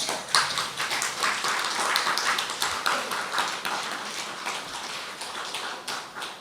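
An audience applauds at a spiritual class lecture, a dense and steady wash of many hands clapping that holds at full strength for several seconds and then eases off slightly.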